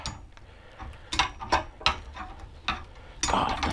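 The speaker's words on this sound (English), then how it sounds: "just get a 9mm spanner on. And you can wind that little sucker" A 9mm spanner works loose a small part on a budget SR Suntour suspension fork, with a handful of sharp metallic clicks and ratchet-like ticks spaced irregularly, close up.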